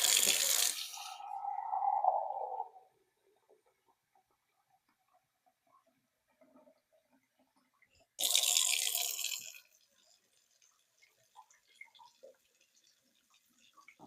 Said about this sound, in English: Now we're just going to add some water to maybe just almost cover it